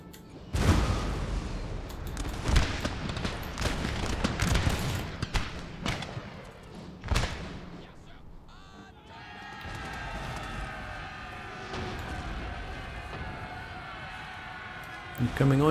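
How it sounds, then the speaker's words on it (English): Artillery guns in Napoleon: Total War fire on musketeers: a string of sharp booming shots and volleys over the first half, then a calmer stretch of battle ambience with tonal music, while a voice talks over it. "So the guns are now targeting the musketeers, which is good."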